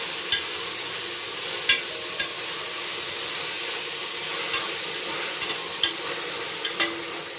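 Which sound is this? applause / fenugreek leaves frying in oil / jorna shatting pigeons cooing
fenugreek leaves frying in oil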